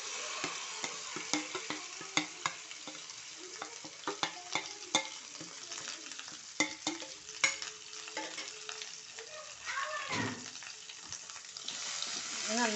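Ground masala with cumin sautéing in oil for paneer butter kurma, a steady close sizzle broken by repeated sharp scrapes and clicks of a spoon stirring against the pan.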